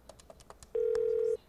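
A telephone is dialed quickly on a game show: a rapid run of short keypad tones, then one longer steady tone, close and clear against faint background noise.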